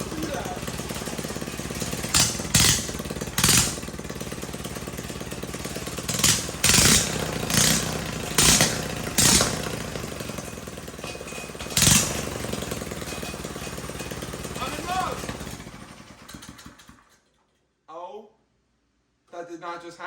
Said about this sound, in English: My mini bike spits flames!